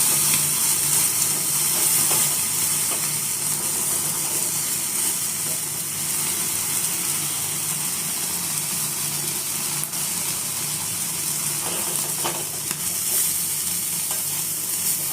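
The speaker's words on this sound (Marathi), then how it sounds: "मी दुसरा पीसही अशाच पद्धतीने भाजते गॅसवर" A green tandoori chicken piece roasting directly over a gas flame gives a continuous hiss and sizzle with faint clicks, steady and fairly close, with no talk.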